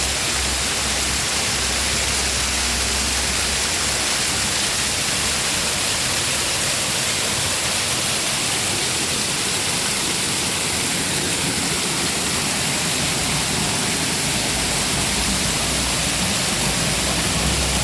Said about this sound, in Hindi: ये गार के अंदर से बहुत सारे चश्मे कूद रहे हैं।